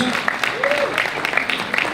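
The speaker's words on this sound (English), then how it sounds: "let's give them a big round of applause" Guests applaud at a wedding reception, a dense patter of clapping with a few voices heard over it.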